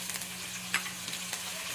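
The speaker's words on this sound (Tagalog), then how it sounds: "Gisa-gisa lang muna natin ito mga ka-idol. Sibuyas, kamatis, bawang." Onion, garlic and tomato sauté in hot oil with a steady, quiet sizzle, and a few soft clinks of stirring cut through it.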